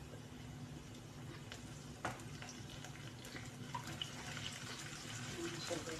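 Canned tuna and onions are sautéing in a pan. A quiet, continuous hiss of frying is broken by a few sharp clatters of a utensil against the pan, and faint talk is in the background.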